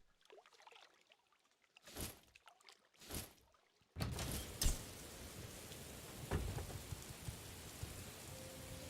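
Rain falling in the video game Morrowind, a steady hiss of rain on surfaces that starts abruptly after a few quiet moments with two short bursts, continuing at an even level with occasional louder drops.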